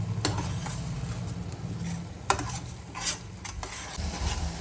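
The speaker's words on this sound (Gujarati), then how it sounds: "આપણે કાંદાની પેસ્ટ છે થોડીક વાર ચડવા દઈશું." Onion paste sizzling and cooking in a pan for chole masala, a soft steady fry with several scraping stirs and light clinks of a spoon on metal, close and quiet.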